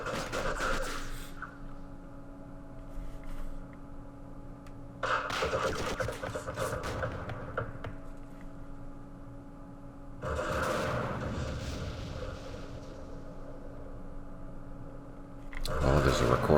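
Sniper gunfire in the Vietnam war game Campaign Series Vietnam comes as three or four separated bursts of sharp shots and crackling fire over a steady hum, with a voice speaking in between.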